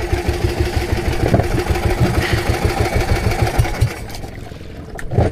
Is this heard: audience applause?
no